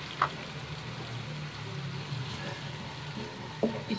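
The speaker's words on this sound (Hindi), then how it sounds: "इसको आप थोड़ी सी इसकी भुनाई करें।" Ginger garlic paste sautés in a pot for Sindhi biryani, giving a steady soft hiss with an occasional faint crackle and clink near the start and end.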